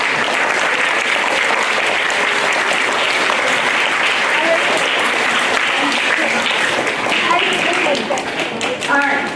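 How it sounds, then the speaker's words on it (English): An audience at a school spring instrumental concert claps in steady, dense applause for about nine seconds, loud and close, then begins to thin out at the end. "So can we give them a round of applause?"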